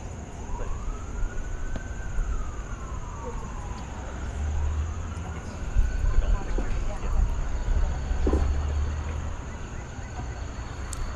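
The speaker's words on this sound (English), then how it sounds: "Guys, I'm hearing sirens." Emergency vehicle sirens wail faintly in the distance, the slow rising and falling tone drifting under a constant rumble of background noise.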